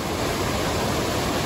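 Swollen with snowmelt, a mountain creek on the Pacific Crest Trail rushes with a loud, dense, steady roar of water that fills everything, with no voices.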